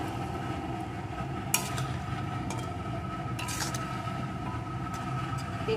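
Restaurant-style chilli chicken with tomato sauce and sugar is stir-fried in a pan, giving a steady, even sizzle throughout with a few sharp utensil clinks against the pan.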